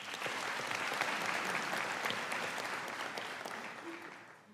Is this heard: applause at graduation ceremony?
yes